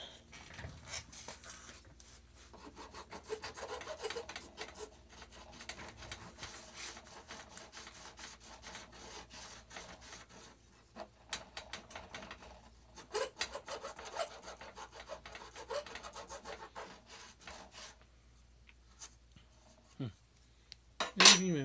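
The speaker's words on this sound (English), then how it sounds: "If I could use my file." A hand file rasps along a workpiece to trim off dried glue, with repeated scraping strokes that are close but quiet, irregular and spread over about twenty seconds, and a few faint clanks of tools.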